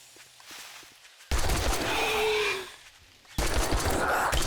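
Gunfire in the zombie survival game 7 Days to Die: two loud bursts of firing, each lasting about a second, separated by a brief quiet gap, with faint footsteps before the first.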